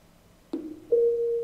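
A boAt Stone 750 12W Bluetooth speaker sounds its pairing confirmation: a short thump, then a clear sustained electronic tone holding steady for about half a second, close and moderately loud.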